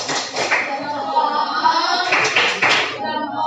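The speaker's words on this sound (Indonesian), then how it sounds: "tepuk salut" A primary school class gives a rhythmic patterned salute clap in a classroom, several quick bursts of hand claps mixed with children's voices chanting along.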